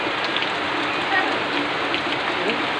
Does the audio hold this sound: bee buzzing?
no